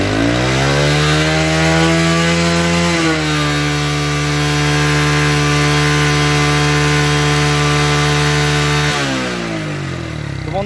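A second-hand Dayang AD80S motorcycle engine runs loud and close, idling with a steady buzzy drone, revving up around the third second and dropping back down near the end.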